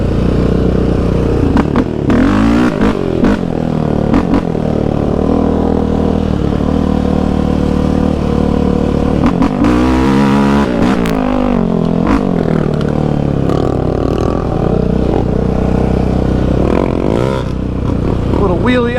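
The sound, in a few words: Yamaha Raptor 700 ATV engine revving during wheelie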